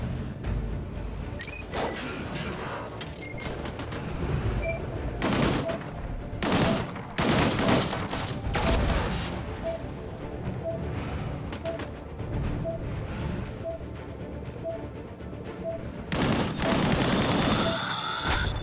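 Gunfire from the video game Disintegration rattles in repeated bursts and volleys over a busy combat soundscape, with heavy thumps and explosions scattered throughout.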